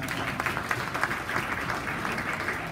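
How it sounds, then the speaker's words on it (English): Sustained applause from an audience at a dementia education tour event in Tempe, Arizona, a steady dense wash of many hands clapping at moderate distance with no talk. "So give yourselves a round of applause for those who got zero."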